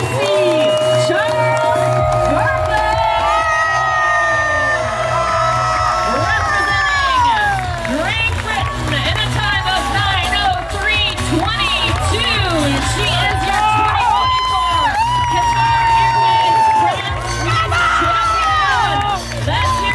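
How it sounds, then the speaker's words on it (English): A large crowd at a London T100 triathlon cheers and shouts continuously, whoops and voices layered into a loud, steady roar with people talking nearby throughout. "The crowd was buzzing for her, everyone was loving it."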